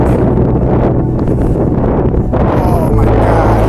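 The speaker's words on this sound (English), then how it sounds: "Very chilly and super windy." Strong gusty wind roars and buffets the microphone continuously on a chilly Appalachian Trail mountaintop, loud and close, with no speech.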